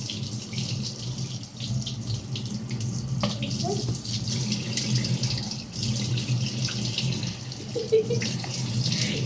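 A tap runs steadily into a sink, a continuous hissing splash that lasts for about nine seconds. A few faint voices and small bumps can be heard beneath the flowing water.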